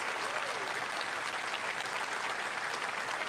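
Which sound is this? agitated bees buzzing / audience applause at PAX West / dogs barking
audience applause at PAX West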